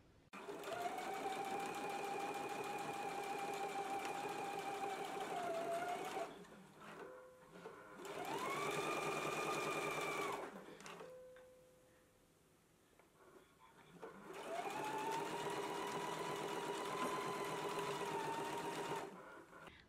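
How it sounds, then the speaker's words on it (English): A sewing machine topstitches along the folded edge of a shirt placket in three long, steady whirring runs separated by short pauses, quiet and close, with the motor pitch rising at the start of each run. "we are going to top stitch right here along this folded edge of the placket, all the way down to the large circle"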